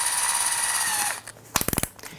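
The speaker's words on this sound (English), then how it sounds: "I'm going to load up the drill bit into my drill." A drill bit being loaded into a power drill chuck, a brief whirring spin that winds down, then a rapid burst of ratcheting clicks as the chuck is tightened, close and clear.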